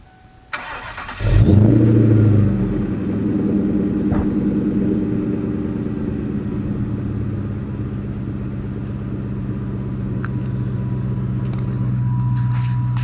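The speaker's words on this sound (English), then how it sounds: "So we're going to do a cold start." A Pontiac Trans Am with a DNA catback exhaust cold-starts with a brief cranking whir, then catches into a loud burst before settling into a steady, fairly low rumbling idle that holds close by for the rest of the clip, with no talking.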